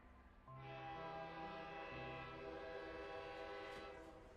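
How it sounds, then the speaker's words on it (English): A loud, drawn-out train whistle from the Girls Frontline 2 video game blares alone with layered harmonic tones while low rumbling steps shift beneath it as the crowded train lurches and begins pulling out. "Soon there's a loud whistling as the fully loaded train lurches into motion"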